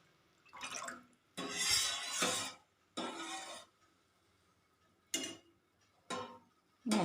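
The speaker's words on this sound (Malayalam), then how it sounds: "ഇങ്ങനെ ഇളക്കി കൊടുത്തുകൊണ്ടേ ഇരിക്കണം" Curd (thyru) stirred in a pot as it heats on the stove, with a spoon scraping and swishing in several separate bursts broken by short pauses, close and fairly quiet.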